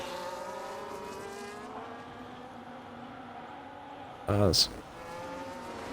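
A Ferrari race car engine in a racing video game drones steadily in the background at moderate distance, partly under commentary, and a brief loud burst cuts in near the end.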